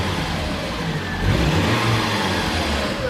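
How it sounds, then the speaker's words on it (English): Steady engine drone of a car driving north on the M6 motorway toward Scotland, heard from inside the vehicle as a continuous close rumble that swells slightly midway, with no talking. "We're driving on the M6 going north to Scotland"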